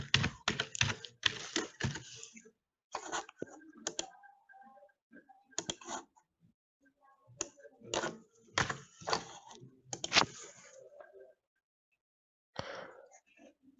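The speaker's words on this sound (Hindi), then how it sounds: "मैं अपनी तरफ से कुछ भी टाइप कर देता हूँ" Keys tapped on a computer keyboard while entering a domain name for a free website, bursts of quick typing separated by pauses, close and moderately loud, with someone talking in between.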